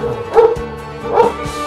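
A dog gives two sharp bow-wow barks with yips, fairly close and loud, separated by a short pause, with no talk over them.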